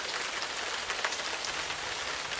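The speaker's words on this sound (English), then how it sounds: "the rain starts, going from light to hard in an instant" Steady rain sound effect in an audio drama, a dense hiss of drops hitting surfaces that holds at a loud, even level throughout, with no voices over it.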